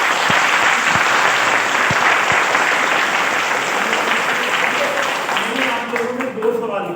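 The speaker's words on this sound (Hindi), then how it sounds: "एक बार जोरदार तालियां अपने लिए बजा के।" A crowd claps loudly and continuously, with the applause tapering off as a voice starts speaking near the end.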